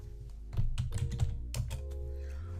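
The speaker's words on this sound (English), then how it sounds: "I'm going to go ahead and then just type in the name of my evaluator" Rapid keystrokes on a computer keyboard, entering a name into a form, as a quick irregular burst of clicks over a steady low hum, closely miked, then a pause.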